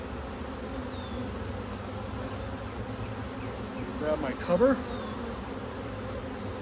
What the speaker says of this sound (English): move this away because there's not many bees in here